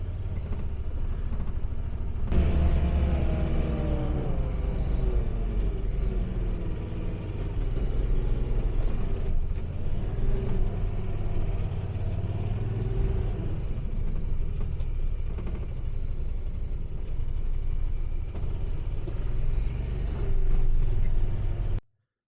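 A vehicle on Camso tracks churns up and over a deep-snow hill, with a steady loud engine drone and rumble that rises and falls in pitch, heard close and without speech.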